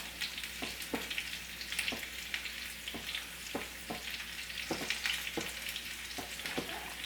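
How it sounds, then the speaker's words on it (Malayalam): A pot of chicken stock for chicken majboos bubbles and hisses at a steady rolling boil, broken by regular light clicks of stirring. "ചിക്കൻ സ്റ്റോക്ക് ഒന്ന് തിളച്ച് വന്നിട്ടുണ്ട്"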